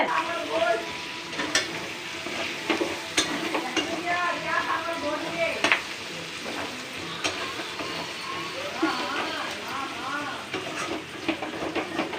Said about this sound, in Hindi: देखो लाल करी प्याज टाके भाजबे।